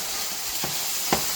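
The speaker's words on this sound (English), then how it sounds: "our meat is frying really nice." Lean ground beef fries in a pan with a steady, bright sizzle, and two brief scraping stirs of a spatula cut through the hiss.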